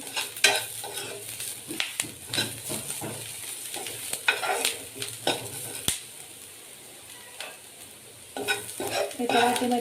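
Onions are stirred and sautéed in a pan for a traditional Katachi Amti, with a soft sizzle under repeated scraping and clinking of a utensil against the pan at close range.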